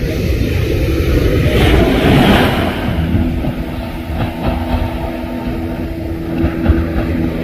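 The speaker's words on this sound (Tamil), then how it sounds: "ஒரு போட் ஒன்று வந்து அப்படியே ஸ்பீட் அங்காயம் ஒரு போட் போயிருக்கு" A motorboat with a Suzuki outboard engine runs past at sea off the Jaffna coast, a steady broad engine drone mixed with water and wind rush, fairly loud and continuous throughout.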